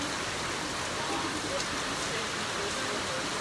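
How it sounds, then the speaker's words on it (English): Steady rain falls in Ghana as a dense, even hiss of drops on surfaces, continuous and close throughout with no break. "This is rain."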